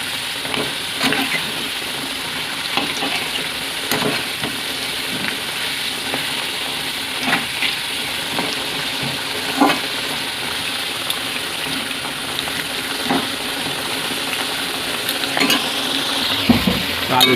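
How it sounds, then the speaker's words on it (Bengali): Potatoes stir-fried in a pan sizzle loudly and steadily, broken by repeated scraping knocks of the spatula at an irregular rhythm throughout, with no voices. "আলুটা লাল লাল করে ভেজে নিয়েছি"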